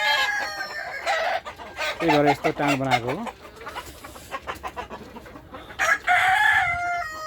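A rooster crows loudly mid-clip amid steady clucking from nearby Sonali-breed hens, with someone speaking over the birds.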